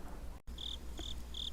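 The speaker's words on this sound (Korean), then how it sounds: "귀뚜라미 우는 소리만 간간히 들리는 거리를" Crickets chirp at night on a dark, quiet street: three short, bright chirps come at a steady, evenly spaced rhythm over a low, constant background hiss.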